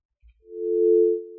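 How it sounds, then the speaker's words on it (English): A steady telephone dial tone from a newly installed phone line, a single continuous hum that fades in, holds at a moderate level and then drops slightly, heard alone. "we have a dial tone"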